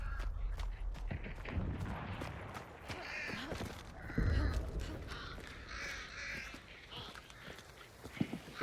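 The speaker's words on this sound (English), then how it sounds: "Deal with these crows." Crows cawing in the video game Resident Evil 1 Director's Cut, harsh caws over a low rumbling game ambience with sharp thuds like gunfire scattered through, moderately loud and continuous.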